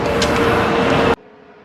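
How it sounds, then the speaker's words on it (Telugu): A low-flying airplane passes overhead near an airport, making a loud, steady broadband roar that cuts off abruptly partway through, leaving near silence. "ఫ్లైట్స్ అన్నీ కూడా చాలా కింద నుంచి వెళ్తున్నాయి, అందుకే సౌండ్ చాలా ఎక్కువ వస్తుంది ఈరోజు ఫ్లైట్ సౌండ్"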